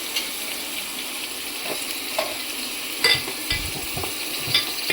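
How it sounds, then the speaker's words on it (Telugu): Green chillies, carrot and tomato fry in a pan for vegetable biryani, giving a soft, steady hiss with occasional light pops and stirring clicks, fairly quiet and without speech. "పచ్చిమిర్చి, క్యారెట్, టమాటో వేసి కొద్దిగా ఒక 10 మినిట్స్ వేయించుకుంటానండి"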